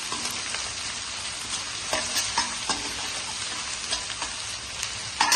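Ginger and garlic frying in sesame oil for Pallipalayam chicken, a loud continuous crackling sizzle close up with spatula scrapes and stirring clatter throughout; no voices.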